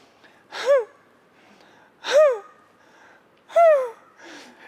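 A voice imitates a whimper: three short, high, wavering cries separated by pauses, each sliding downward in pitch.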